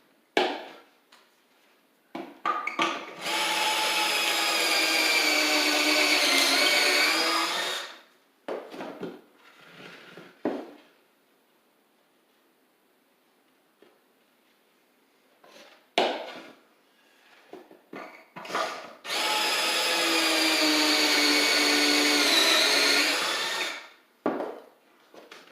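A power drill drives 3/4 inch Kreg pocket hole screws into a wooden cabinet frame in two sustained whirring bursts of several seconds each. Short scrapes and clunks of handling fill the pause between them, and no one speaks.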